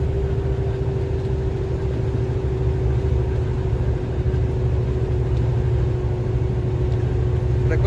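A tractor-trailer's diesel engine gives a heavy, steady rumble as the rig gathers speed on a downhill mountain grade. The drone is constant and close, with no voices over it.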